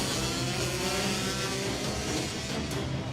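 Honda NSF 100 race motorbike engines pull away from a race start, a dense, loud, continuous buzzing roar of several bikes revving hard at close range, with no talking over it.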